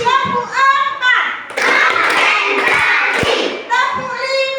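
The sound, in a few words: children clapping a four-beat clap game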